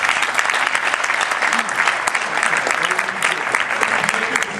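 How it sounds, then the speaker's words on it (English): Applause from an audience at an award and scholarship presentation: dense, sustained clapping from a full room, steady and fairly loud for the whole stretch, with a few voices mixed in. "Let's give them another round of applause."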